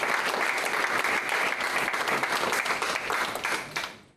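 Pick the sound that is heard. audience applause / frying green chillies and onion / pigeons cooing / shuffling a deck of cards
audience applause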